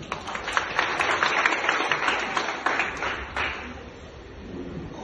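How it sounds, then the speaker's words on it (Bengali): An audience claps for an invited guest at a gathering, a burst of sharp, scattered hand claps that gradually thins out and fades toward the end. "তো এই জন্য আমি স্যারের জন্য একটা করতালি চাচ্ছিলাম।"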